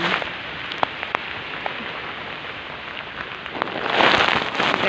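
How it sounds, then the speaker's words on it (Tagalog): Steady, heavy rain pours down in a dense hiss, with scattered sharper drops and splashes, swelling louder toward the end. "grabing lakas guys ng ulan talaga naman"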